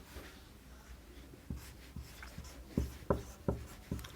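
Marker or chalk strokes on a board during a computer class, a series of short scratchy taps and squeaks growing more frequent and louder toward the end, close and with no talk.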